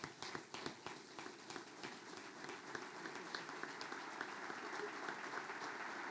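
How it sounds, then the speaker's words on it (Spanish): Sustained audience applause at a Peronist union gathering marking the International Day against Drug Abuse and Illicit Trafficking, a dense steady patter of many hands filling the room from start to finish. "eso merece otro fuerte aplauso"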